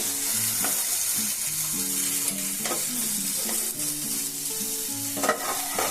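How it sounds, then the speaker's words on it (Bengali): Cauliflower and peas sizzle steadily as they fry in a pan, a dense continuous crackle with a few brief stirring scrapes, close and fairly loud with no voices. "কফি আর মটরশুঁটি দেখুন কি সুন্দর ভাজা হয়ে গেছে"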